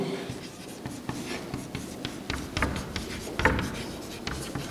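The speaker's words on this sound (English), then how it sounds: "let me write in capital letter only" Pen or marker writing capital letters on a board during a chemistry lesson, a continuous run of close scratching strokes with small taps, moderately loud with no talk.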